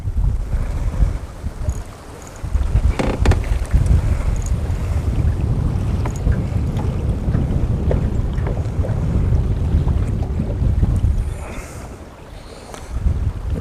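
Strong gusty wind of about 20 mph buffets the microphone on open water while fishing from a boat, a loud continuous roar with rumbling low gusts and water sounds, no voices.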